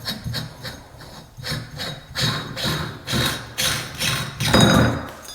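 Repeated squeaky rubbing and grinding strokes come from bathtub faucet handles being unscrewed during bathroom demolition, close and rhythmic, about once every half second.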